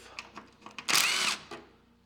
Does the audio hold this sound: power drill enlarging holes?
yes